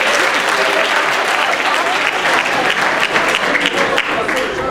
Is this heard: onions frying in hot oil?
no